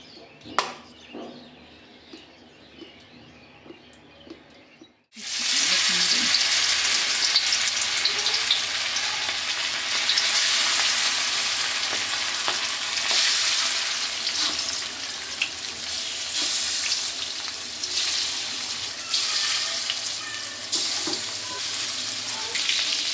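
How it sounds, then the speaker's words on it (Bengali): Hot oil erupts into a loud, steady sizzle as biget fish seasoned with turmeric fries in a heated wok, starting abruptly after a few seconds of near-quiet kitchen sounds and continuing densely to the end. "কড়াই গরম হয়ে গেছে। এখন আমি তেল দিয়ে দিব।"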